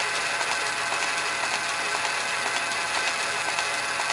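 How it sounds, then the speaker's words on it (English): An MT3 metal lathe turning at its slowest speed on a 1725 RPM motor gives a steady, even mechanical whir and hum, constant and fairly loud throughout, with no talk. "we're turning at the slowest speed that this lathe would have turned at on a 1725"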